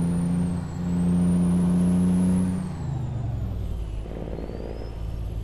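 A cab-over truck in American Truck Simulator runs with a steady engine drone and rising and falling pitch, with a hiss near the end, loud and continuous with no talk.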